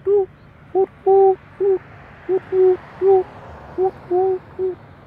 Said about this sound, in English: I hope you guys hear that bird.